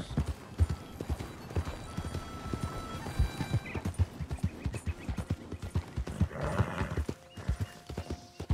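Horse hooves clip-clop steadily in Red Dead Redemption 2 as a horse walks along, with brief whinnies and faint game ambience around the even, moderately quiet rhythm.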